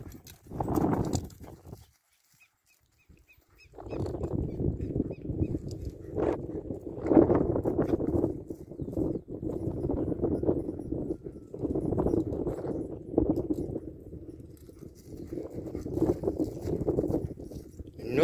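A purebred criollo horse walks with steady, close clip-clopping hooves that continue after a brief pause near the start.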